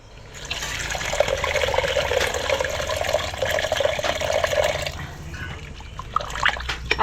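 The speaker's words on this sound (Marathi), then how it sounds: "आणि आता आपल्याला ह्याच्यात पाणी ओतायचं आहे." Water is poured into a pan of chicken curry, a close, continuous splashing pour of about five seconds whose pitch rises slightly as it fills, then tapers into quieter bubbling.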